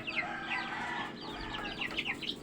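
Young chicks kept in an incubator peep and cheep in quick overlapping chirps, a busy close chorus with faint low background hum.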